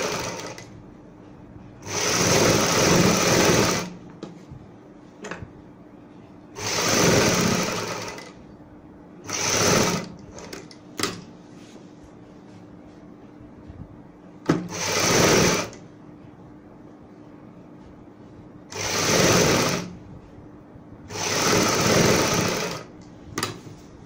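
Short runs of a sewing machine stitching along the folded edge of a garment neckline, about seven whirring bursts of a second or two each, evenly spaced with quiet gaps between them.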